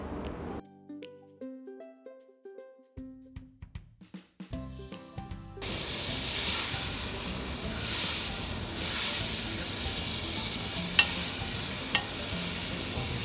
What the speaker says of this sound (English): Melting some butter.